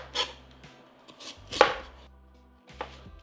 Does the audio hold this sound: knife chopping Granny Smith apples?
yes